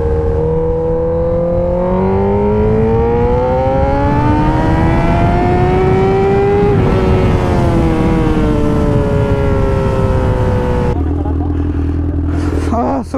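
Honda CBR1000RR Repsol Edition motorcycle engine, a loud sustained roar whose pitch climbs steadily, peaks, then eases off before the sound cuts to quieter wind noise.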